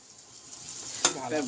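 Onion, cumin and mustard seeds fry in hot oil with a brief, bright hissing sizzle and one sharp utensil clack partway through, close and moderately loud.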